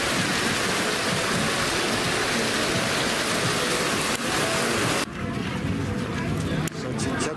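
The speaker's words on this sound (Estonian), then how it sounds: "siin hakkas vihma sadama" Heavy rain pours steadily over the Chatuchak market in Bangkok, a dense, loud hiss that stays constant throughout, with someone speaking over it.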